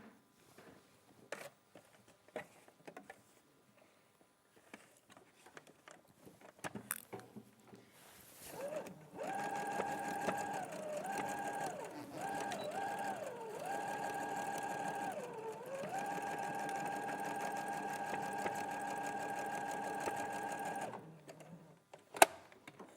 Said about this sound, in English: Just stitch it again, just to anchor it in place so it's not going to shift.